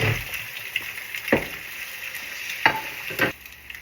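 Three eggs frying in a pan beside turkey sausage, with a steady close sizzle and a few scraping strokes of a spatula, no talk.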